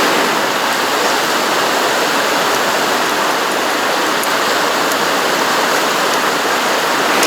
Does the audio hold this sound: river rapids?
yes